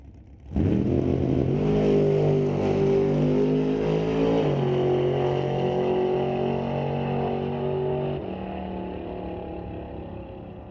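A drag racing car at an NHRA Northwest National Open Series event at Mission Raceway Park launches with a loud, close engine roar that climbs through gear changes, then fades as it pulls away down the strip.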